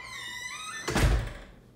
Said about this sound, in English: Oh, that's a squeaky door.